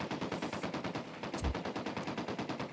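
Sustained automatic gunfire in the Ghost Recon Wildlands shooter, a rapid steady stream of close, loud shots with a couple of heavier impacts mixed in, no talking.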